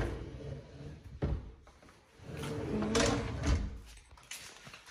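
Deep kitchen drawers in a newly built home slide open and shut, giving a few soft thuds and rolling rumbles from close by, with no talking.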